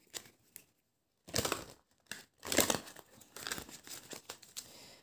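Oracle cards are shuffled and handled for a reading, close and quiet, with bursts of crinkly papery rustling and flicks separated by short silences.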